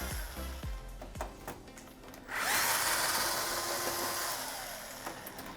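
A power screwdriver spins up loudly while removing screws from the bottom of a Lelit Mara espresso machine, following a few light knocks and clicks; the whirring motor runs steadily for several seconds close by.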